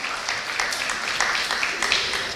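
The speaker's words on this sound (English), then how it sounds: "Let's give them a big round of applause." An audience applauds at a high school FFA ham and bacon auction after a sale, with dense, lively clapping that carries through the whole short stretch.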